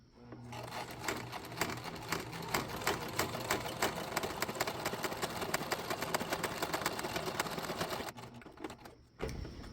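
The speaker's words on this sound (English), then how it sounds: "from the needle punching through the layers of cardstock here" A sewing machine with a heavy-duty needle stitches through layers of cardstock, running steadily at high speed, its needle punching in a rapid, even rhythm for several seconds before stopping abruptly.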